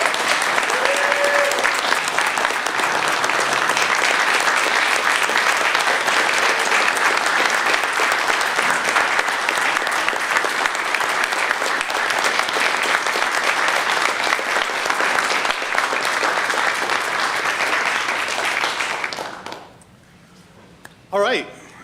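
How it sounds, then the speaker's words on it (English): Sustained applause from a meeting audience honoring retirees at a school committee meeting, steady dense clapping for about nineteen seconds before fading out, with a few scattered claps and brief voices at the end. "I would say one more round of applause for all of our retirees."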